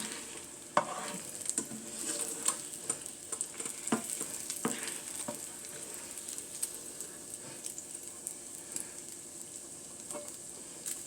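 Bacon fries in a smoking-hot pan with a low, steady sizzle broken by frequent sharp pops and spatters and a few clinks of utensils against the pan. No voices are heard.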